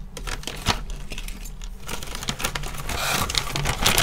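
Items are packed back into a plastic bag after a flea market phone hunt, giving soft crinkling and rustling with small clicks and taps that build toward the end, close up and moderately quiet.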